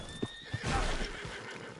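A horse in the video game Red Dead Redemption 2 lets out a short whinny, faint and mid-distance, with a couple of hoof clops and soft rustling around it.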